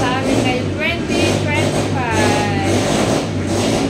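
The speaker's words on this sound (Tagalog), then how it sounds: "Mga nagpapaandar ng motor, mga sasakyan." Motorcycle and car engines revving on New Year's Day, a steady loud drone with low engine hum throughout, mixed with crowd noise and voices talking over it.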